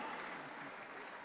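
A congregation claps in a church service, a brief, steady burst of many hands at moderate distance, fairly quiet.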